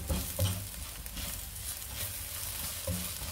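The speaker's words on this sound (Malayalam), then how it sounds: "ഇനി ഇതിൻ്റെ പച്ചച്ചവയൊക്കെ ഒന്ന് മാറണം, ഒരു 2-3 മിനിറ്റ് ഒന്ന് ഇളക്കണം" Okra and onions fry with coriander and pepper masala while being stirred in a pan, a close continuous sizzle with soft scraping strokes at the start and end.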